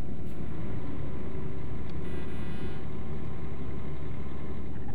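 KAMAZ 5490 NEO truck engine in Euro Truck Simulator 2, a steady low, even drone of a heavy diesel running and driving, continuous and fairly close, with no talk over it.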